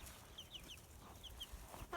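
Chickens cluck softly at an off-grid coop, with a few faint, scattered calls over a low background and a slightly louder call at the end.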